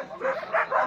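Dogs at a rural ranch gathering in the hills give short yipping barks, three quick bursts close by and moderately loud.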